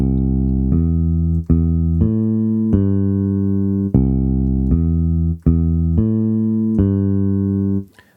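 A synth keyboard plays a steady low bass line, about a dozen sustained notes stepping between a few pitches with a nearly even rhythm, alone and up close.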